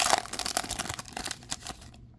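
A Bowman blaster trading card pack is torn open and its foil wrapper crinkled, giving a quick burst of close rustling and tearing that ends in silence.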